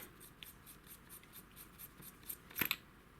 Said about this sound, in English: You can remove the tail cap.